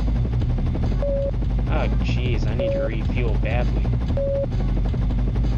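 Rotor drone of a helicopter in the SimCopter video game runs steadily and loudly through the whole stretch, with a repeating beep over it and someone talking on top.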